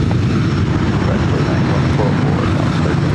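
Aircraft engine noise at Ontario, California airport, a loud, steady low roar that fills the whole stretch with no clear breaks, a voice faintly mixed in.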